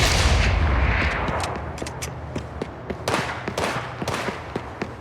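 Gunfire and artillery blasts in the mobile video game Gangstar Mirage City: a heavy booming explosion at the start fading out, followed by a rapid series of sharp, close shots in irregular bursts.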